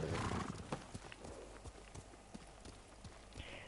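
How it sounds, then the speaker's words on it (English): Horse hooves clip-clop with a whinny in the samurai video game Ghost of Tsushima, sharp hoofbeats ticking along at a steady trot over a windy ambient bed, fairly close and moderately loud. "I wanted my horse. Where's my horse?"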